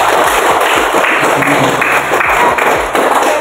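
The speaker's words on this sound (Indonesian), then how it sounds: "Mari kita sama-sama aplaus. Tepuk tangan." A classroom of students applauds at a teacher's prompt, steady dense hand clapping from many pupils nearby, loud and continuous with a few thumps mixed in.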